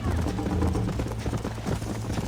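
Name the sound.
horse galloping in video game Red Dead Redemption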